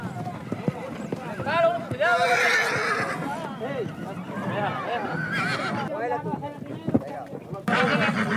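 Wild marsh horses neigh and whinny loudly and repeatedly as they are captured, with hoof clatter and commotion nearby while someone narrates over the noise.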